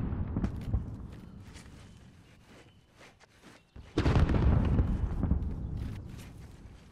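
Grenade blasts in a shooter video game: scattered thuds and pops early on, then a heavy booming explosion with a long rumbling roll that slowly fades.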